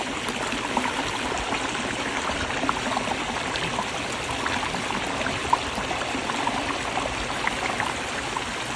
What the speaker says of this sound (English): So we've got that waterfall.